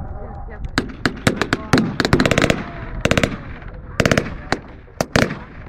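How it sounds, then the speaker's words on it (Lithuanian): German MG42 machine gun firing in a battle reenactment, rapid loud bursts of shots in irregular clusters with short pauses between them, close and sharp, with a voice heard faintly underneath. "Labai skardžiai galena vokiškas kulkosvaidis MG42, labai populiarus tarp partizanų"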